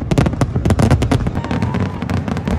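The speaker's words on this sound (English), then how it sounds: "And that's its fireworks." Fourth of July fireworks crackling and popping in rapid, dense bursts, a loud continuous barrage of sharp bangs with no pause.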